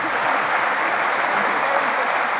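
Audience applause for panel speakers at an MIT technology day session on AI and health; a soft, steady wash of distant crowd clapping, even throughout and fairly faint.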